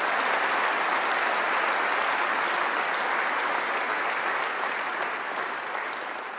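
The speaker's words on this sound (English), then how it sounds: "So please give them a big round of applause." Sustained audience applause fills a large hall at the 2016 Conservative party conference, a dense, steady wash of clapping from many hands that holds loud throughout and eases only slightly at the end.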